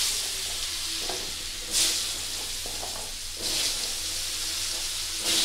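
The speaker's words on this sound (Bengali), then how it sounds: "এই আলুগুলো এখন ভেজে নেব।" Potatoes frying in white cooking oil with a little turmeric, a steady close sizzle and hiss with a few louder bursts of spatter.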